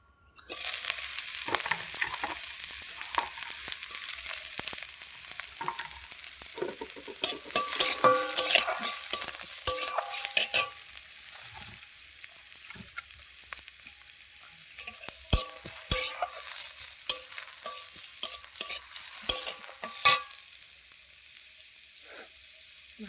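Onion and green chilli sizzle in a little oil while a spoon stirs and scrapes the pan, loud close frying with clattering metal strikes throughout, no voices.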